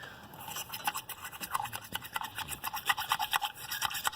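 Rapid rhythmic scrubbing of carbon deposits off the closed intake valves of a BMW 335/535i, a dry brushing rasp close up with bursts of strokes and no talk.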